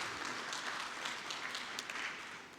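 Audience at a meeting of SADC ministers for ICT applauds, a dense continuous patter of many hands clapping that is fairly faint and steady, then slightly fades.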